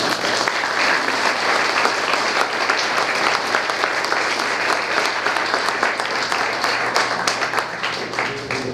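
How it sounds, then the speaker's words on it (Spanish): Audience at an award ceremony for a stainless steel competition claps in a loud, sustained, even round of applause, dense and continuous throughout. "yo pediría un aplauso para Iminox por este gran"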